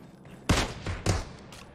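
Two sharp gunshots in the mobile battle royale game PUBG Mobile, loud close cracks about half a second apart with a faint third pop trailing after.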